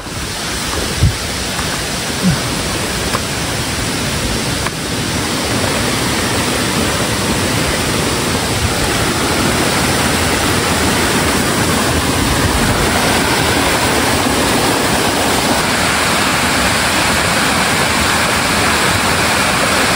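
Rushing river water flows continuously nearby on a hiking trail near Cherandong Dam, Kuala Kubu Bharu, a steady broad wash like a fast stream or small cascade, with no voices.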